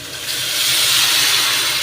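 Water poured into a hot pan of spiced potatoes bursts into a loud, steady sizzling hiss that swells and holds for a couple of seconds, close up with no talk.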